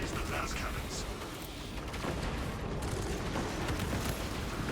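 Blast cannons firing in Space Marine 2 during a Techmarine battle, a dense barrage of booming shots and explosions rolling continuously, with someone talking over the gunfire.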